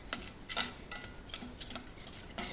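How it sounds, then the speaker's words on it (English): Apples being stirred in melted butter in a pan: light, irregular clinks and scrapes of a utensil against the cookware, fairly quiet and close, with no talking. "So you want to get your apples covered in that butter. And then stir it."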